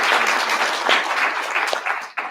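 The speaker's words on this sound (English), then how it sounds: "Please, can you give them a big round of applause?" Audience applause fills the room after a panel discussion at an evening investment event, a dense steady wash of many hands clapping that fades out near the end.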